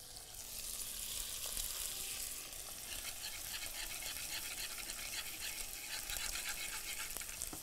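Chicken frying in a pan, a dense, continuous close sizzle with steady crackle and occasional stirring, no voices.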